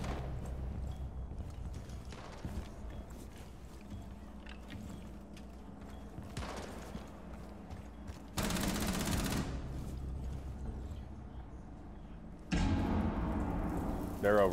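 Gunfire in the Rainbow Six Siege video game arrives as short loud bursts of rapid shots amid thuds and clatter in a tactical shooter match. Voices also come through faintly in the mix.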